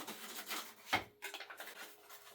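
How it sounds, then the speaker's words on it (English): Sandpaper rubs over a rounded-over wooden piece of an old rocking horse in short rasping strokes, close and fairly quiet, with a sharp scrape partway through. "I'm just going to hit it with a piece of sandpaper."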